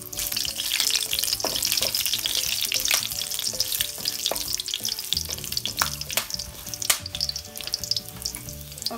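Cumin seeds, cloves and bay leaves sizzle and crackle in hot oil in a pan, a dense continuous frying hiss scattered with sharp pops, close and without talk.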